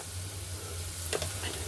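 Spices and turmeric fry softly in oil for a tilapia fish curry with mustard and poppy seed, a faint, steady sizzle joined by a brief stirring scrape.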